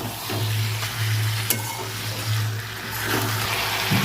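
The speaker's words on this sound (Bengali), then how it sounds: "এর মধ্যে ভিজে রাখা ফুলকপি আলুটা দিয়ে দেবো। মশলার সাথে একসাথে ভালো করে কষে নেব।" Soaked cauliflower and potato sauté with spices in a pan, a continuous close sizzle with a low steady hum underneath and a sharp utensil tap midway, no voices.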